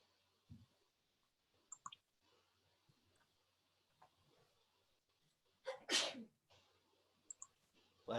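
A single sharp sneeze bursts out near the microphone in a quiet home office, loud and brief against faint background clicks and room noise.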